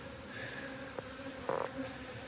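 Honeybees buzz at a hive entrance in a quiet, close hum, with a few individual bees droning louder as they pass nearby.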